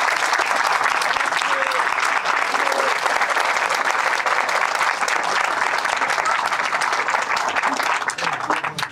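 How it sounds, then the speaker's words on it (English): A crowd at a grand opening of a new flagship location bursts into full applause, dense and continuous for about nine seconds before tapering off, with faint voices mixed in. "Let's give them a round of applause."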